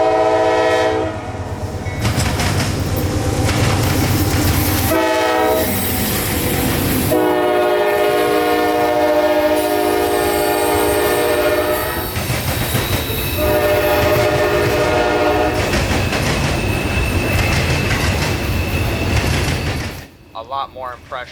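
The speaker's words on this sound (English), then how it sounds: "Rice to Yeoman mixed freight." CSX Q441 mixed freight from Rice to Yeoman, led by AC-44 locomotives in Central Florida, roars past close by with long, loud horn blasts over the steady rumble and clatter of rolling cars.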